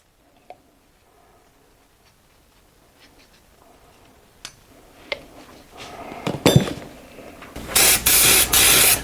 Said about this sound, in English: we're going to apply a little bit of brake lubricant on this hub flange